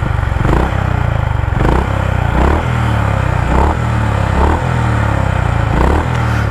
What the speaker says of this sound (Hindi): तो सबसे पहले अपन सुन लेते हैं बाइक का एग्जॉस्ट नोट।